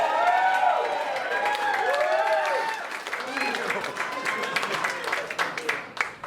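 A live audience at a golf event whoops and cheers with rising and falling voices after a putt drops in the hole, then breaks into scattered clapping that fades toward the end.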